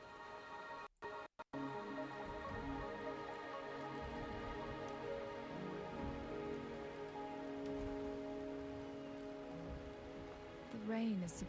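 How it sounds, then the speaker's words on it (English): Soft, steady patter of rain falling in the video game Wuthering Waves, continuous and fairly faint beneath a low musical drone, with a brief dropout early on. "The rain is subsiding, and the sky will soon clear."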